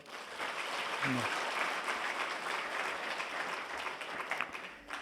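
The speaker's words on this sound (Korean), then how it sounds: "박수 한번 할까요?" Congregation applause at a special Friday church service, a steady wash of clapping held for several seconds, with a brief voice cutting in near the start.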